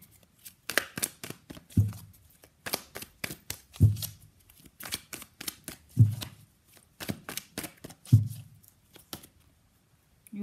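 Tarot cards are shuffled in rhythmic bursts of riffling, each ending in a soft thump about every two seconds, close by with no talking.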